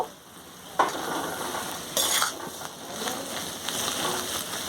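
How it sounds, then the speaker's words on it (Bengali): Beans, potato and capsicum stir-fry on high gas, giving a continuous bright sizzle with a few sudden louder bursts as the spatula tosses the vegetables, close and alone. "সব সবজিগুলো দিয়ে গ্যাসটা জোরে দিয়ে ভালো করে ভেজে নেব"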